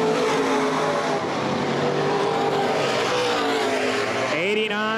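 Open-wheel modified race cars roar around the Baer Field Speedway oval, engines loud and sustained with rising and falling pitch as cars pass close, and a commentator talks over them.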